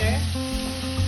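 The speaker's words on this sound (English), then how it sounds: "give that a stir." A brief, close sizzle from a pan of tomato sauce with basil and Worcestershire sauce as it is stirred, a steady frying hiss lasting about a second.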